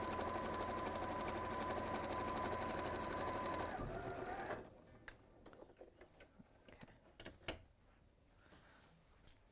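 A sewing machine running steadily while stitching side seams through fabric with fusible fleece, a fast even whir for several seconds that stops abruptly, leaving faint handling clicks and taps.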